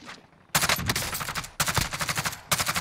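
Bursts of video game gunfire in three loud volleys of rapid automatic shots, each lasting about a second, separated by brief quieter pauses.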